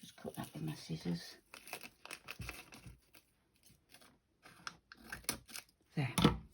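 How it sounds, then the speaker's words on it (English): Scissors cut fabric in short crisp snips with crinkling handling noise, mixed with a person talking intermittently; a louder cut comes at the end. "just cut that with my scissors"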